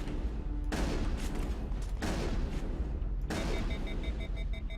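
Shotgun fire in the video game Mass Effect, three loud booming blasts roughly a second and a half apart over a rumbling battlefield background, no speech.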